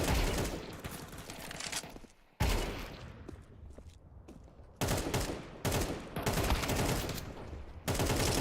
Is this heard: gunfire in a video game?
yes